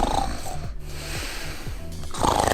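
Rhythmic, guttural snoring from a sleeper in a hostel, close and fairly loud, with a couple of rasping breaths in a row.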